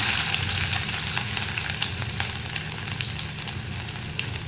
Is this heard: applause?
no